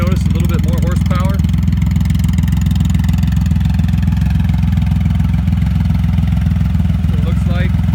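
A Triumph Rocket 3 Roadster motorcycle with an aftermarket exhaust runs steadily at a low, deep rumble, loud and continuous throughout, with a voice speaking briefly over it at the start and near the end.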